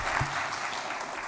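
A lecture audience breaks into a short burst of clapping that fills the room, brief and fairly loud with no voices over it.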